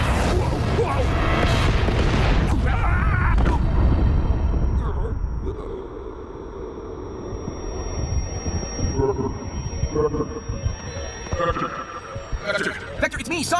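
A cartoon missile launch and explosions: a loud, rumbling blast fills the opening seconds, then it settles into a lower roar with scattered bursts, a steady high whine, and voices talking over it.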